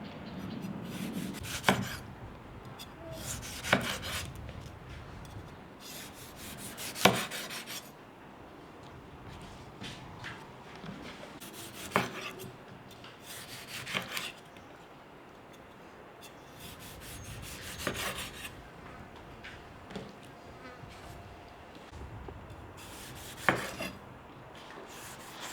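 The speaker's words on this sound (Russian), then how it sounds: "Вот кольцами, такими толстыми кольцами нарезаем помидоры." A knife cuts tomatoes into thick rings, each slice ending in a sharp tap on the cutting board, repeated every few seconds at a slow, unhurried pace.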